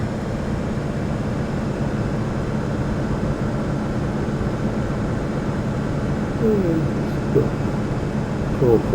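A Piper PA-28 light aircraft on landing approach gives a steady droning engine hum heard from inside the cabin, with faint brief voices near the end.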